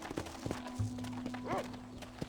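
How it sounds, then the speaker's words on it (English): Red Dead Redemption horse with a few hollow hoof clops on the ground and a short whinny partway through, at moderate distance over low background ambience. "let's go hitch our horse"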